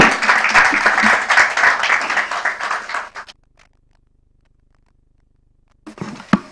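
Audience at a Nigerian corporate sustainability report launch bursts into dense, sustained applause for about three seconds, then falls silent before a brief resumption of clapping and voices at the end.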